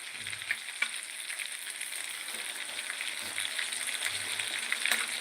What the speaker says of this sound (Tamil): இப்போ மீன் வந்துட்டு ஃப்ரை ஆகிட்டே இருக்குது